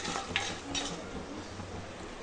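Cumin and mustard seeds fry in hot oil in a pan with a steady crackle and a few sharp pops and stirring sounds, heard up close.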